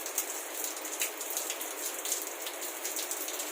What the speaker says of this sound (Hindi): और क्या बारिश हो गई।